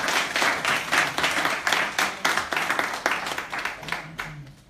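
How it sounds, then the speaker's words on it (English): Round of applause from an audience at a book talk, dense clapping sustained for a few seconds then thinning out, with a voice starting faintly near the end. "Please give him a round of applause"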